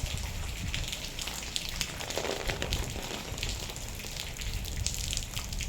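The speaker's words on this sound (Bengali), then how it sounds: "বৃষ্টি এত তাড়াতাড়ি চলে আসলো।" Steady, dense rain pours down without pause, a continuous hiss of drops hitting surfaces that stays even and close throughout, with no voices.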